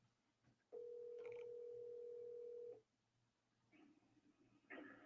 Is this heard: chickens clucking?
no